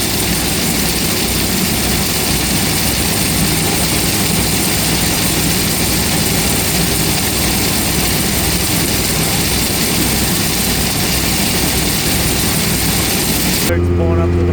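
Farm machinery roaring loud and steady as a wagon of chopped corn pulls up to a powerful silo blower, a dense continuous engine drone with no breaks.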